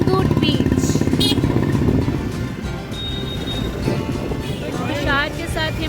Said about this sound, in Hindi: तुषार के साथ ये मेरी फर्स्ट बाइक राइड है और मैं बहुत ज़्यादा एंजॉय कर रही हूँ।